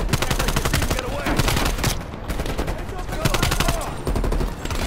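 Rapid bursts of AK rifle fire in the video game Black Ops Cold War, loud and close, with dense repeated shots and a brief lull near the middle.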